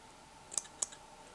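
Scissors make two crisp, quick snips while trimming fibers on a Bob Popovics Ultra Shrimp fly, faint and close against a quiet background.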